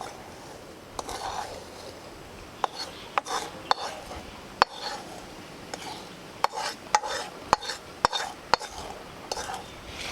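Roasted besan (gram flour) scraped out of a kadhai into a bowl for khava satori, heard as repeated sharp metal clicks and scraping strokes over a soft steady background hiss, with no talking.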